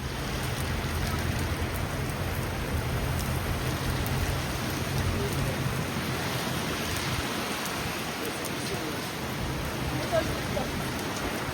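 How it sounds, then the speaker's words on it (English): Steady rain falls in Tivat, Montenegro, a dense, even hiss of drops on surfaces that continues unbroken and fairly close throughout, with no voices over it. "the rain didn't stop"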